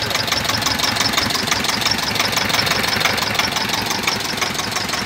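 A 1982 Escort 335 tractor engine idles with a steady, knocking diesel rumble, loud and close, running continuously without talk.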